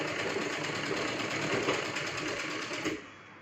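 A sewing machine runs steadily, stitching the side seams of a lehenga in one continuous close whir that stops abruptly near the end.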